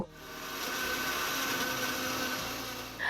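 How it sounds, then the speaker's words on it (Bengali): An electric grinder whirs steadily as soaked ingredients, Kashmiri chilli powder and turmeric are ground into a fine paste, a continuous loud motor drone that runs for most of the moment and then cuts out. "তারপর সমস্ত উপকরণ একসাথে একদম মিহি করে বেটে নেব।"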